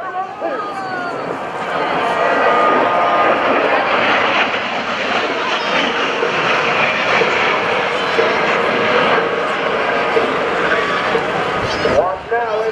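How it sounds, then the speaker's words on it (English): An A-10 Thunderbolt II jet flies a demonstration pass at the 2011 AirPower Over Hampton Roads air show, its loud, steady engine roar filling the whole stretch, with an announcer's voice faintly over it. "Ladies and gentlemen, from your right, Major Thorpe and the A-10 Thunderbolt 2."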